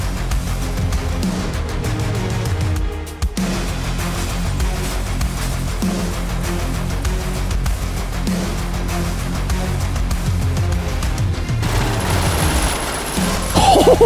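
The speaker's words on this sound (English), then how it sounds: "I say as I shoot first." Rapid gunfire from the Intravenous 2 stealth shooter, dense and loud, layered over a steady bed of game sound for the whole stretch, with a sharp brief drop near the middle and a louder burst at the end.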